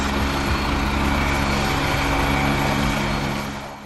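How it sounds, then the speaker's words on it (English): A helicopter flies overhead, a loud, steady broadband engine and rotor roar that holds for a few seconds and then starts to fade near the end, with no talk. "A helicopter is a rotorcraft that can fly at various altitudes"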